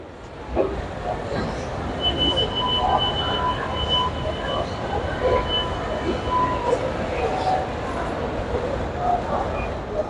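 Metro train at Kalkaji station in Delhi, a steady rumble of rail cars with brief high wheel squeal tones, heard up close amid station bustle and scattered background voices.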